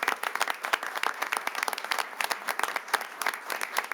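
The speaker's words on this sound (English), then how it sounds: "One more big round of applause for everyone." A modest audience at a city council meeting gives a round of applause, with distinct claps scattered irregularly and a few hands standing out close by.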